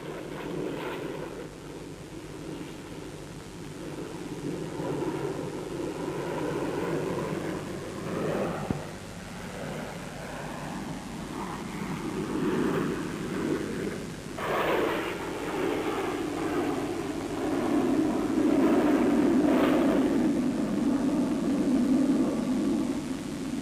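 A de Havilland Chipmunk in an inverted spin roars as a steady engine and wind drone, swelling and shifting in pitch as it turns, with no talk.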